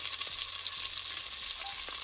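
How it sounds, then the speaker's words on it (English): A tablespoon of garlic sizzles in melted butter in a pot, a steady bright hiss with a few soft stirring knocks, close and unbroken. "I'm going to add some garlic, tablespoon of garlic"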